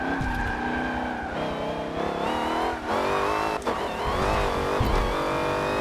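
A 1000+ HP race car built from a family car roars through a racing video game, its engine revving hard and rising in pitch as it accelerates, with tires briefly squealing; loud and continuous with no talking.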